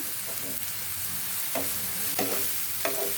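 Finely chopped onions with mint and curry leaves frying in a pan for chicken curry, giving a constant close sizzle with a few sharper stirring scrapes.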